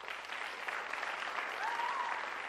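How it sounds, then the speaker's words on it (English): A steady wash of audience applause greets a performer at a Rangapravesham dance debut, sustained and even across the whole stretch, with a faint whistle-like tone near the end. "congratulate and appreciate this afternoon's star with a huge round of applause"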